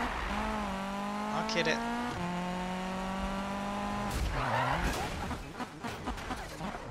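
A car engine in Need for Speed drones with steady tones and gear shifts, then tyres squeal and a short skid and rattle follow, with someone talking over it.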